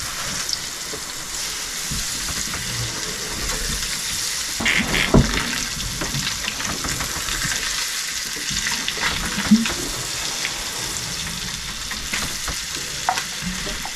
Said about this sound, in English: I'm about to pan fry the steaks in butter